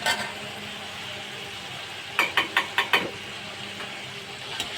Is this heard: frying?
yes